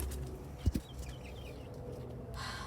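Chickens give a couple of short low clucks close by outdoors, followed by quieter scratchy rustling and faint bird sounds.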